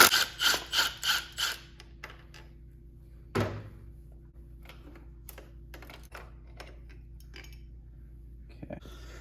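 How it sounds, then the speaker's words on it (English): Metal tool clicks and ratchet-like taps from an 8 mm Allen wrench loosening the rear brake lever on a DRZ400SM motorcycle, a quick run of five sharp clicks at first, then a single knock and scattered faint taps in a quiet room. "I'm going to now remove this rear brake lever, and this is a 8 millimeter Allen wrench."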